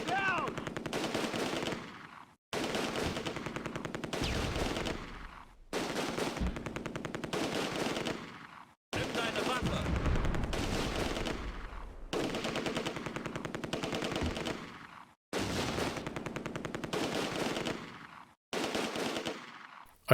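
Heavy gunfire with rapid machine gun bursts in the WWII strategy game Close Combat: A Bridge Too Far, Nijmegen bridge battle; loud, dense volleys in repeated segments of a few seconds separated by brief silences.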